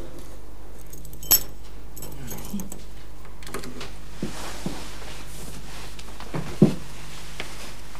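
Keys jingle and scrape as someone tries a key in an apartment door lock, with two sharp metallic clinks and faint rattles in a quiet room, no speech.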